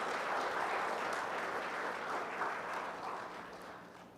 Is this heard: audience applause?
yes